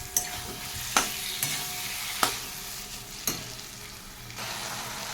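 Masala mixed with fat and yogurt sizzles in a pan while a utensil stirs it, a continuous frying hiss punctuated by four or five sharp scraping knocks spaced about a second apart; no voices.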